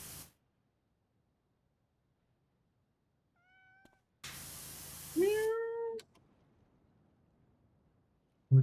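Cartoon cats in the video game Power Wash Simulator give a faint short meow, then a burst of spraying hiss, then a louder drawn-out meow, with quiet gaps between and no speech.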